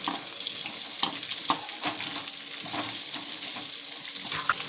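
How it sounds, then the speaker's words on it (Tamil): Garlic and onion sauté in a pan for tomato thokku, an even, continuous frying hiss punctuated by occasional soft knocks of stirring. "இப்போ பூண்டு போட்டுக்கலாம். நல்லா கொஞ்சம் வதக்கிக்கிறேன்."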